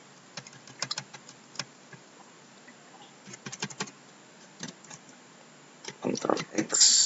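Terminal commands typed on a computer keyboard for an Ubuntu 18.04 server, a quiet close patter of key clicks in short bursts separated by pauses, with a denser flurry of keystrokes toward the end.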